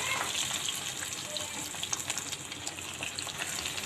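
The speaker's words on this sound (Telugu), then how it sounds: "ఇవన్నీ కొంచెం మనం ఫ్రై చేసుకోవాలి చక్కగా" Garlic, dried chillies, onions, cumin and curry leaves frying in a clay pot, giving a steady close sizzle with soft crackles and pops throughout and no one talking.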